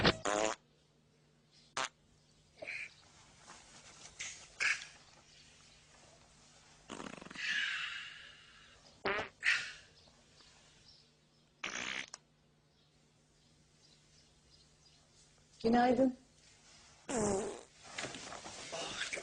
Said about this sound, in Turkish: evde yellenme rezaleti